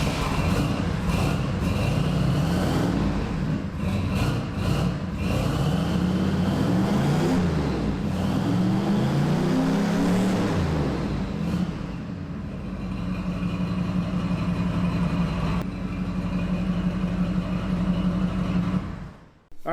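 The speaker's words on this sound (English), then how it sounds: "so we'll try this really fast. 3-inch bullet style muffler." A cheap turbocharged farm truck engine runs through a 3-inch bullet-style muffler, a loud, continuous exhaust drone with rising and falling revs in the first half, then a steadier idle-like rumble before cutting off at the end.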